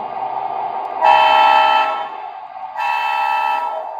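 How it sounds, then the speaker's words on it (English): A model train horn sounds two loud sustained toots separated by a short pause, over a steady electric hum. "I actually like that horn a lot."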